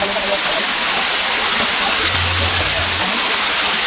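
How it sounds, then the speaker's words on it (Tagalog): A river waterfall at a creek swimming spot in Dapitan City pours in a loud, constant rush of splashing water, with a brief low voice murmuring beneath the roar. "Tapos parang falls talaga siya dito."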